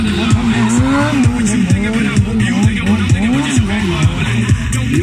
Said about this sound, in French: En mode drift pour ça.